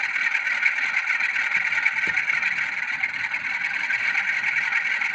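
Graham Farish Class 47 model diesel locomotive with DCC sound, held stationary while its engine sound is revved, a steady droning idle-to-rev engine tone from a small speaker, continuous and even throughout with no talk.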